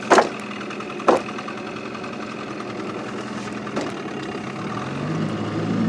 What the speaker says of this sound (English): That motor picks up them weeds like a magnet